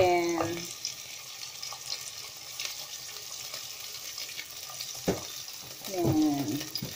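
Chicken pieces sautéing in a pan with onions for chicken sotanghon guisado, a low steady sizzle broken by sharp clatters of stirring, close by with no talk.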